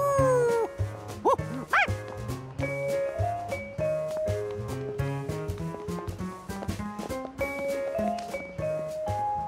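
Cartoon dogs at a dog show let out short barks and yips over a busy, bouncy music score, with no talking.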